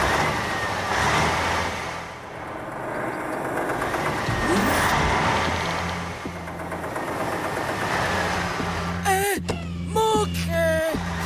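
Engine of a cartoon dump truck from Bob the Builder driving fast, a steady mid-pitched motor drone rising and falling with revs, close, followed near the end by brief high squeaking and clattering bursts.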